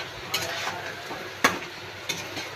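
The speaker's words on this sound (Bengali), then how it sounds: "এটা দিয়েই কিছুক্ষণ একটু কষবো।" Methi chicken masala with fenugreek leaves being stirred in a pan, a soft steady sizzle broken by a few sharp scrapes and clinks of the spoon against the pan.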